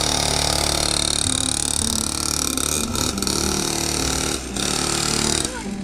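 A mini dirt bike's small engine runs loud and continuous with a rough, buzzing drone that dips briefly a few times, heard close up throughout.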